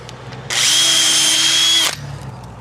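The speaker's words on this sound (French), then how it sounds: "On préperce." A power drill pre-drilling a wooden terrace decking board: one steady high whine of about one and a half seconds that starts and stops abruptly, close and loud, with quiet room sound around it.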